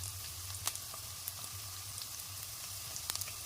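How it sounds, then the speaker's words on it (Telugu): Young tamarind leaves go into a frying pan with onions, giving a faint steady sizzle under a low hum, dotted with occasional small pops and crackles. "చింత చిగురు వేసుకుందాం."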